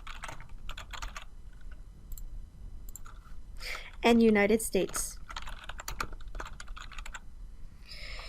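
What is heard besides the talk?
typing on a computer keyboard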